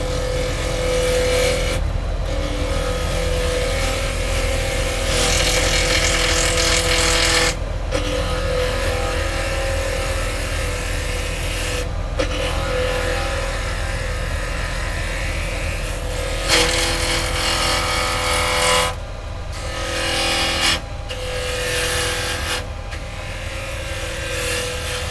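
Wood lathe running steadily while a bowl gouge turns a wooden bowl blank, a continuous motor hum with rough scraping cuts that stop and restart several times at close range.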